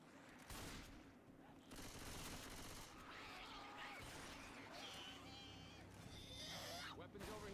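Bursts of rapid machine gun fire in a competitive video game match, sharp and crackly amid other battle noise, playing under continuous fast-paced talk.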